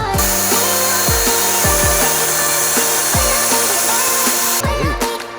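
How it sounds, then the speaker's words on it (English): A power drill whines loudly and continuously, its pitch dropping and surging repeatedly as it bites into the metal floor of a Camaro to mount roll cage base plates, close up. "the last piece that we actually need to do is drill all the base plates into the car"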